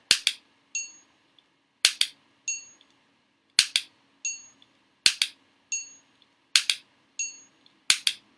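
SIRT training pistol dry-fired repeatedly: six sharp snapping clicks at a steady interval of about 1.4 seconds, each followed by a lighter metallic click, close and crisp against a quiet background.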